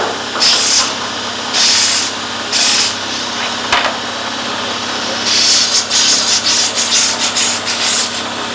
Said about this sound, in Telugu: ఇది గ్రైండింగ్, ఈ మషిన్ వచ్చేసి బఫింగ్ మషిన్ అండి.